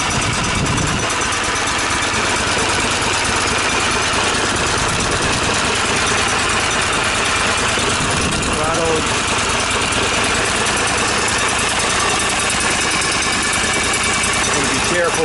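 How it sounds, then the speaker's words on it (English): A Kohler CH740 small engine idles steadily and evenly, close by and loud the whole way through, with someone talking over its smooth running. "she's a nice running engine, huh? I mean, she just sits right there and purrs."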